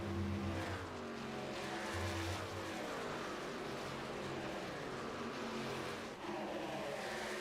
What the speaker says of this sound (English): enjoy the sounds of the racetrack